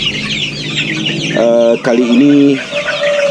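KUB chickens on a farm in Parung Panjang give a short, loud clucking call midway, over steady farmyard background noise. Someone speaks briefly at the start.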